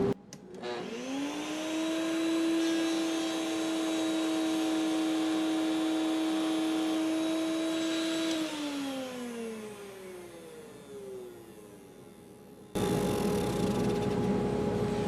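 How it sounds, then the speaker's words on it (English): A woodshop dust collection system serving a router table spins up with a rising whine, drones steadily at a loud level for several seconds, then winds down, followed by a burst of broader noise. "So let's turn on the dust collection and see what we get."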